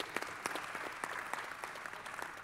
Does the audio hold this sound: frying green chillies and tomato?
no